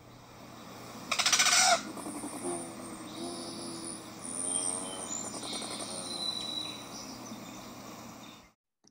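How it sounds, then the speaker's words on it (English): Sharp buzzing chips and short trilled buzzes from a rufous hummingbird, one loud burst followed by softer buzzy notes, alone in a quiet setting. "the rufous hummingbirds don't really have a song, but they'll often give out chips and buzzes"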